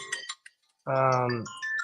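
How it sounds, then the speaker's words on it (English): A phone timer alarm chimes in short bursts of bright tones, then a sustained ringing alert sounds loudly and steadily, close to the phone. "this dang timer on my phone always goes off"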